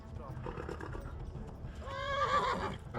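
Horse neighing in the video game Kingdom Come: Deliverance, a clear whinny rising near the end over rumbling game noise and galloping hooves, with voices shouting during the chase.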